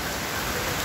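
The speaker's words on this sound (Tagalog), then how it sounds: "grabing ulan ngayon guys" Heavy rain pours down steadily outdoors on a university campus in the Philippines, a dense even hiss filling the whole moment with no voices.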